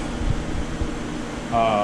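A compressed air dryer and charged compressor run for a sandblasting cabinet, giving a steady mechanical hum and airy hiss with a tonal whine rising near the end.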